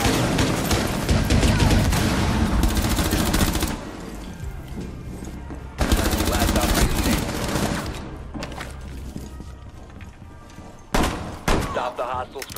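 Sustained automatic gunfire in the video game Rainbow Six comes in dense, loud bursts, drops away for a moment, then returns, with a final sharp burst near the end.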